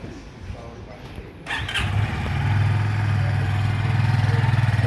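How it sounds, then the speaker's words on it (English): A motorcycle engine cranks and fires up, then settles into a steady, loud idle with a low rumbling throb; a voice murmurs faintly before it starts. "I'll ask my friend Janak to start the bike."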